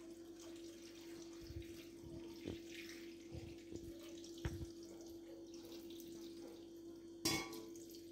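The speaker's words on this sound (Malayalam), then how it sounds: "അതിനകത്തേക്ക് ചൂടുവെള്ളം ഒഴിച്ചു കൊടുക്കാം" Hot water poured over washed grapes on a plate for grape juice, a faint trickle of water with a steady background hum and a few soft knocks and splashes.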